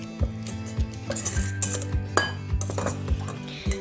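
A spoon knocks and scrapes in a bowl while cupcake batter with room-temperature butter is stirred, with regular close clinks against the side and soft scraping in between.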